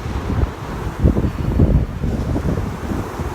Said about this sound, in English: that wind is so cold